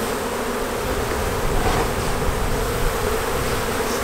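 Dense, steady buzzing of a mass of honey bees, roughly 25,000 of them gathered in a hive during queen rearing, close and continuous with no voices.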